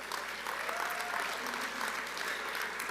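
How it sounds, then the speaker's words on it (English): Dinner audience at a Florida Governor's Dinner in Okaloosa County gives the event staff a sustained round of applause, dense steady clapping from a large crowd filling the room. "Let's give them a big round of applause"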